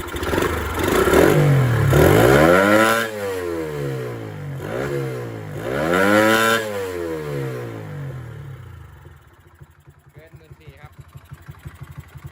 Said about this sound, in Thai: รอบเครื่องก็ทะลุหมื่นสี่ครับเกินหมื่นสอง